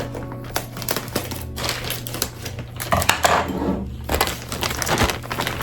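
Potting soil scooped from a bag into glass containers during home decor styling, with a steady series of close gritty scrapes, soft thuds and light clinks of glass, busier toward the middle, over a faint steady hum.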